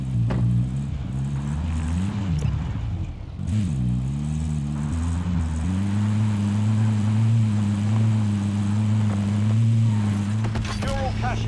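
Car driven in a Call of Duty video game, a loud, close low engine drone that rises and dips in pitch as it accelerates, then settles into a steady hum, with a voice talking over it briefly near the end.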